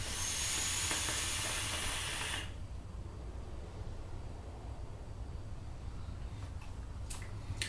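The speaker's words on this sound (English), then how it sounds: "Let's have a vape and see what it's like." A Wotofo Vaporous RDA vape fired at 65 watts gives a loud, steady hiss for just over two seconds, then cuts off and leaves faint background noise.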